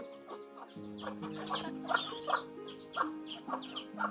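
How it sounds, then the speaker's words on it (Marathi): A group of chickens clucking close by as they are fed rice, overlapping repeated clucks and short calls in a busy, uneven rhythm, with no voices. "आता कोंबड्यांना खायला घालतोय"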